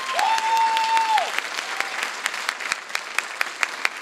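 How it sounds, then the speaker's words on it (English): A graduation ceremony audience claps for a social science graduate, steady applause that thins toward the end into a few separate claps, with a short electronic tone near the start. "Give her a round of applause."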